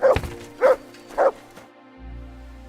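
A dog in the medieval role-playing game Kingdom Come: Deliverance II gives three evenly spaced, fairly close barks, followed by a quiet low rumble.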